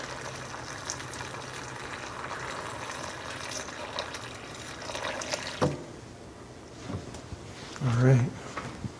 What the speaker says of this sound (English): We have hot water immediately out of the tap right here.